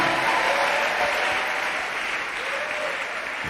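Church congregation applauding the Lord during a sermon, a full, steady wash of clapping from many hands that fades slightly toward the end.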